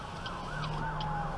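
A police car siren wails during a chase, its rising and falling tone fairly distant and faint over steady road and engine rumble, heard from inside a passing car with no talk.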